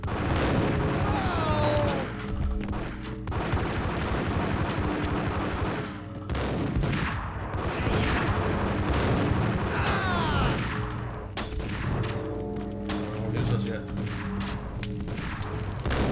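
Gunfire in the shooter game Max Payne, with dense volleys of loud shots and bursts in rapid succession for the whole stretch. A voice is briefly heard under the shooting.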